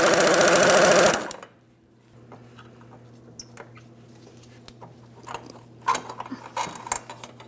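A 15mm fuel tank strap mounting bolt is worked loose on the frame of a 2007-2014 GMC Sierra 2500 HD, giving a loud burst of ratcheting at first, then scattered small metallic clicks and taps from the tool.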